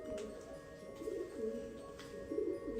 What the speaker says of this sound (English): You can hear the pigeons on the roof.